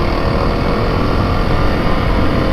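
Honda CRF300L Rally motorcycle accelerating, a steady, loud engine drone that holds continuously throughout without pauses or talk.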